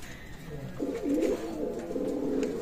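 Pakistani high-flying pigeons at a loft coo softly in low, rolling throaty notes, quiet and close, with no other sounds over them.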